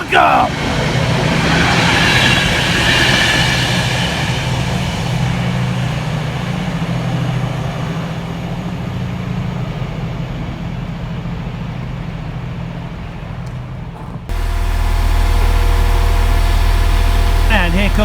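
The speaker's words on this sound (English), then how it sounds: "And here comes our final freight train." Class 66 diesel locomotive 66623 hauls a freight train from Banbury to Tunstead through Dorridge with a loud, steady roar and a rumble of wagons close by that shifts sharply near the end. People talk over it.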